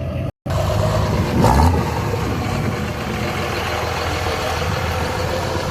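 A truck engine at a truck show gives a continuous loud broadband rumble with a brief dropout near the start and a short swell around the middle, steady throughout.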